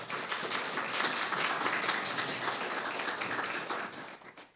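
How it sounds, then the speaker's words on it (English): Audience applause at a talk introducing an anti-abortion organization's director, a dense sustained wash of clapping from a crowd that fades out near the end. "Let's give her a round of applause."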